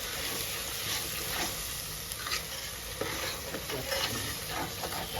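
Andhra-style mutton curry being stirred in a pan, a steady sizzle and frying hiss with scraping spoon strokes against the metal, continuous and close, no voices.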